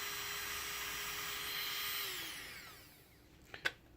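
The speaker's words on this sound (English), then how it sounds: "So when you plug it in, turn your drill on" A K38 nail drill with its handpiece runs as a steady high electric whine that drops in pitch as it spins down and stops, followed by a couple of small clicks and handling knocks.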